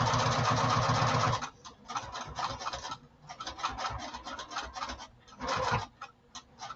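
A sewing machine stitches a lining, running in a long steady burst at first, then in short stop-start bursts with pauses as the fabric is turned at a corner.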